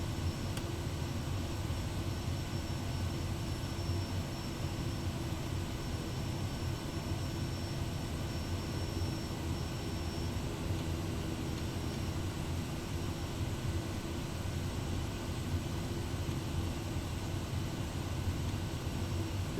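A Kodiak 100 turboprop idles and rolls along at McCall in a flight simulator, giving a constant, even engine drone and airflow hiss with no change in level.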